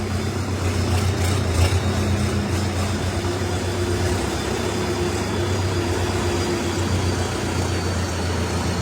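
Toyota Fortuner SUV engine running as the vehicle is driven out, a steady low rumble and idle-like drone, close and continuous throughout.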